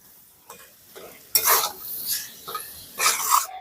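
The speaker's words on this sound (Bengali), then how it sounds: "সবকিছু দিয়ে খুব ভালো করে একটু মিশিয়ে নিয়েছি" Potato and cauliflower filling for crisp cauliflower singara being stirred and mixed in a pan, giving several scraping, clattering bursts of utensil against cookware, loud and close, with short pauses between strokes and no talking.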